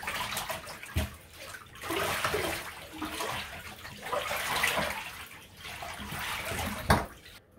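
A woven item being scrubbed gently by hand in a tub of water, with soft repeated sloshing and swishing in uneven waves, fairly quiet and close, with no talk.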